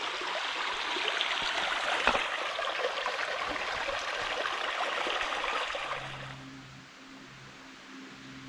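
Mountain stream rushing through a gorge on the Pinhoti Trail in Georgia, a steady broadband wash of flowing water that holds loud for about six seconds, then drops to a softer trickle as low tonal hum appears near the end.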